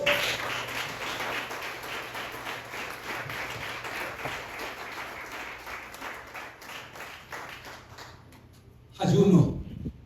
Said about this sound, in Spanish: Yo le estaría dando un aplauso a Dios.